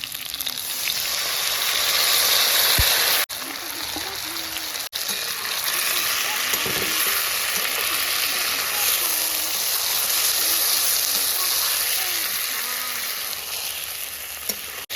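Loud, steady sizzling of vegetables (papaya) frying in a pan fills the whole stretch, with occasional stirring scrapes and faint clicks.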